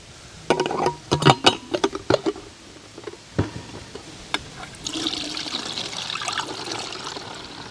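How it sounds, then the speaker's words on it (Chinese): Watermelon juice poured into a bottle, a few clattering knocks first, then a continuous splashing trickle of liquid filling the container, fairly close. "提早准备了瓶子，先收一点西瓜汁。"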